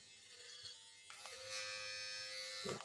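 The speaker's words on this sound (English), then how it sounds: "you can switch it up to, let's say, a foil trimmer, just like that" A Braun Series 5 beard trimmer fitted with its foil trimmer attachment buzzes faintly up close, switching on with a steady high whine that holds through the end, with light clicks as the head is handled.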